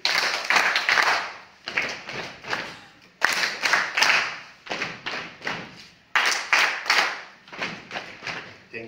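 Group at a book launch in Kenya claps in rhythmic bursts of three, hands and then feet, the sets repeating in a steady pattern with sharp, loud attacks and brief gaps between them.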